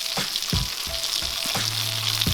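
Tomato puree frying in oil in a pan, a steady bright sizzle running throughout with a few dull scraping stirs and knocks of a utensil against the pan.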